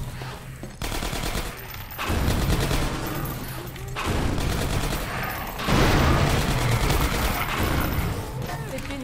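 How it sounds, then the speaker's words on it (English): Automated turrets in Half-Life 2 Episode One firing long sustained bursts of rapid gunfire, loud and dense, with short gaps between the volleys. "Careful, I hear turrets."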